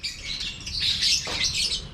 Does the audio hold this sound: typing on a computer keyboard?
no